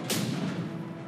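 A single tank cannon shot in the Tank Company game lands as a sudden, close blast, followed by a heavy low rumble that rolls on for about a second.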